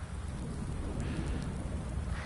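Steady, dense rain hisses down onto a shed in a farming video game, a constant close wash of droplets with low rumbling underneath and no talking.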